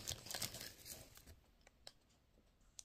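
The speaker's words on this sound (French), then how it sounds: "Donc, je vais ouvrir le packaging." Scissors cutting and tearing into the packaging of an album box set, a few crisp snips and crinkles up close, fading to sparse small clicks and taps.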